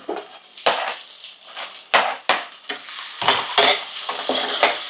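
Chopped tomatoes tipped into a pan of frying onions and stirred, with loud scraping spoon and metal clatter over a soft sizzle, in irregular bursts heard close up with no speech.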